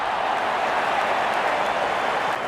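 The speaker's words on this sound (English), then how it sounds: "Wonderful 50 and the crowd applauds." Stadium crowd applause in the Real Cricket video game during an India vs England T20 international, a steady dense wash of clapping and cheering that holds even throughout.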